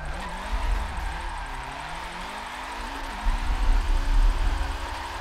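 A car drifts in the Forza 7 racing game on a Fanatec wheel setup, its engine droning steadily while tires squeal and scrub through a long slide, louder toward the end.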